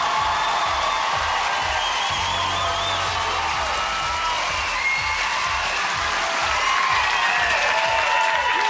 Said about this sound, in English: Let's hear it for Robert.